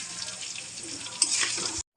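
Potatoes for a home-style biryani fry in hot oil with a steady, close sizzle and crackle, a sharper burst of spitting near the end before it cuts off briefly; no voices.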